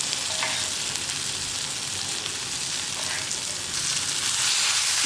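Snake gourd and cooked dal stirred together in a hot pan, giving a steady, continuous sizzle with faint stirring scrapes and no talk.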